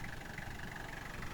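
A 1993 Toyota Hiace fire truck's 3L diesel engine idling, with a steady, even rumble and a faint mid-range whine, continuous and unchanging throughout.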